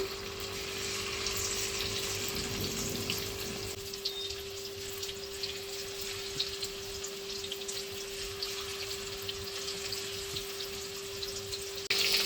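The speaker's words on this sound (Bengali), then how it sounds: "আবারও আমি চিকেনগুলোকে ভেজে নেব এরকম করে একটা একটা করে দিয়ে" Chicken pieces for chili chicken frying in hot oil, added one at a time, giving a steady, even sizzling hiss that holds without pause.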